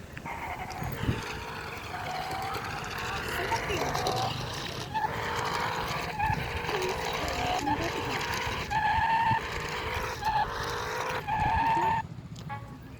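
A remote control toy car from Thailand drives with a whirring motor and tire-skid noises, steady and fairly close, while a person talks over it throughout.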